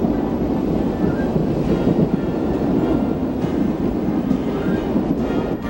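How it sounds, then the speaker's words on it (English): An eastbound commuter train on Burlington (CB&Q) tracks, heard as a steady, loud rumble and rattle of rail cars rolling past, with some wind buffeting and no voices. "Soon we meet up with an eastbound commuter train."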